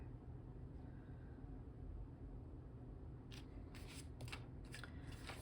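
Scissors snip through paper planner pages in a few quick, close cuts over a steady low background hum, with no talking.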